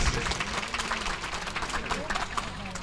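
An audience claps in a dense patter of rapid hand claps that carries on evenly, with voices mixed in, at a stage performance of the Odia Badi Pala Duryodhana Janu Bhagna.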